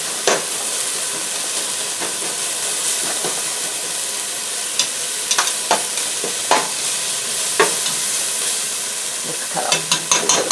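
Frozen onions for a Japanese chicken curry fry in a pan with a steady loud sizzle and hiss, broken by sharp scraping clicks as a utensil stirs them.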